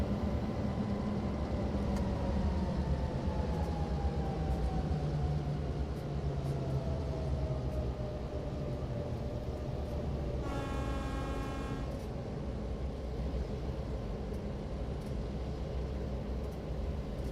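Diesel locomotive in Train Sim World 3, an older unit like a Santa Fe F7, rumbling steadily close by with a low engine drone, a falling whine, and a brief multi-tone horn blast near the end.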